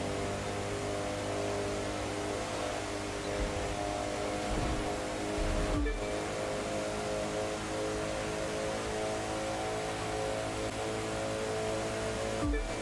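A Koenigsegg engine roars at high speed in the racing game The Crew 2, a loud, continuous, steady drone with a brief dip partway through, and no voice.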